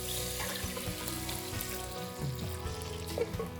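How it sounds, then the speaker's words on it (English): A 28-ounce can of diced tomatoes with their juice poured into a pot, making a continuous soft wet sizzling and splashing rush, fairly quiet and steady throughout with a couple of faint knocks. "To this, I'm adding a 28-ounce can of diced tomatoes with the juice."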